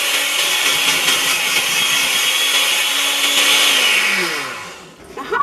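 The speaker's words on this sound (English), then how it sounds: "It is kind of working though. I mean, it's chopping up the peanuts." A kitchen blender or food processor chops peanuts with a steady, loud whirring grind that runs continuously before winding down near the end, with no talk.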